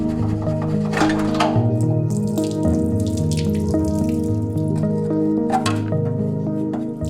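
Water squishes and drips from a car's exhaust near at hand, with wet splashes and trickling over a low steady hum.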